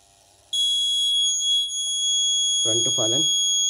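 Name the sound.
alarm of Arduino fall detection system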